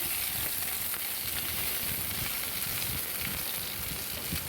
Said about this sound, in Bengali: টমেটোটা কিছুক্ষণ ভেজে নিতে হবে